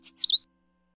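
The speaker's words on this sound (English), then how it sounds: "A baby bird is coming out of the egg." Two short, high chirps from newly hatched baby birds, the second slightly longer and rising, clear and close, then silence.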